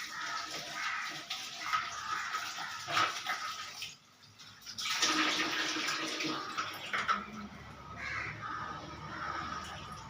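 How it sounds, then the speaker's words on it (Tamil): A handful of greens is washed in water, with steady splashing and running water up close while a dog barks now and then in the background. "இப்போ வந்து நம்ம இந்த கீரையை வந்து வாஷ் பண்ணிக்கலாம்"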